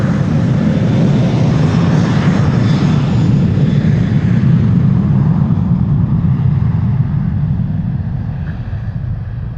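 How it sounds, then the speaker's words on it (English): Air Europa Boeing 737-800 jet on its takeoff run at Amsterdam Schiphol Airport, a loud, steady engine roar dominated by deep rumble that holds throughout and eases slightly near the end, with no talk. "Air Europa to Madrid, turning and burning, 737-800 flight 1098"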